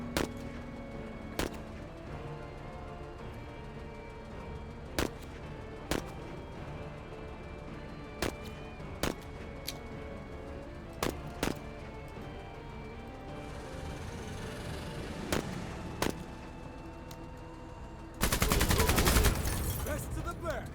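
Gunfire in the video game MENACE cracks out as a string of sharp, separate shots at irregular intervals over a steady background, ending in a dense, loud burst near the end.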